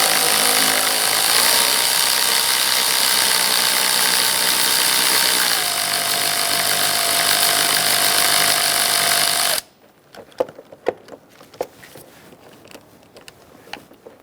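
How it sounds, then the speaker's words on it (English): A 10mm socket loosens a clamp and bolts on a 2002-2006 Toyota Camry, heard as a loud, steady whirring drive for about ten seconds. It cuts off abruptly, leaving faint clicks and handling noises. "Loosen your clamp using a 10mm socket."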